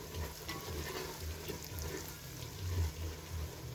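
Chopped onion, already browned, sizzles quietly in a pan with spices added while a spoon stirs it in soft, uneven scrapes, heard close up without talking.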